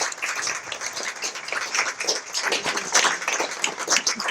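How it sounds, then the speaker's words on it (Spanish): Audience applause at a Spanish-language talk, a dense, steady patter of many hands clapping that fills the moment without any voices over it. "Un fuerte aplauso para Mario de la Torre."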